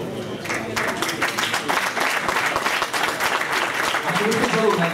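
Steady applause from an audience at an Italian political gathering, sustained dense clapping for the whole stretch, with voices faintly mixed in.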